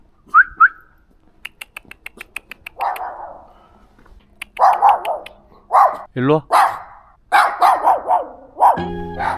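Several dogs bark in short bursts on a deserted street in Shanghai, near and somewhat loud, mixed with whistles and a person calling out briefly.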